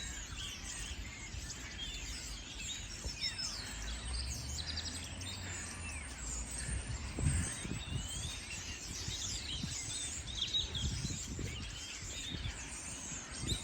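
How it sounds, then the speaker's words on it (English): Many birds chirp and twitter together at a distance, a continuous busy chatter over low wind rumble outdoors. "A flock of birds, but are these the ones that do murmuration or something?"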